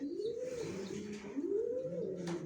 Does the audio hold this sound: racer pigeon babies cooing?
yes